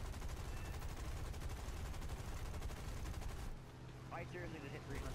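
Rapid aircraft machine-gun fire in War Thunder, a dense continuous rattle of shots under engine drone that cuts off partway, leaving a quieter engine hum with faint tones.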